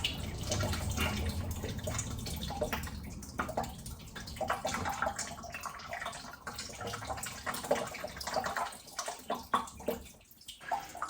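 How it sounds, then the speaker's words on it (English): Electrolyte liquid pours and gurgles out of the hoses of a Model T6633 Brown's gas generator as the unit is tilted back and forth, a continuous close splashing stream that thins and breaks up toward the end. "you want to tilt it back and forth so that the liquid pours out of all the hoses in the system"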